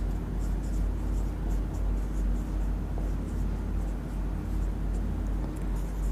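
Chalk or marker writing on a classroom board during a class 10 maths lesson on real numbers, a steady faint scratching over a low room hum, with no speech.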